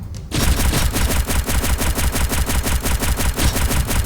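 Rapid automatic gunfire in the shooter game Pixel Gun 3D, a loud, steady stream of evenly spaced shots that starts abruptly after a brief pause and carries on to the end without talk.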